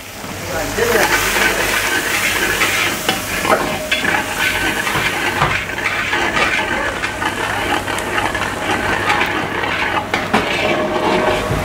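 Chopped onion frying in refined oil with cumin, green chilli, garlic and ginger for oats khichdi, giving a steady close sizzle with stirring scrapes and occasional pan clinks throughout.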